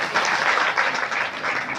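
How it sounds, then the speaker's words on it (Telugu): An audience claps together at a puja gathering in the Sri Vasavi Kanyaka Parameshwari temple in Nizamabad, a brief burst of dense, lively applause that fills the whole moment, with no voices over it. "చప్పట్లు కొట్టండి అందరూ."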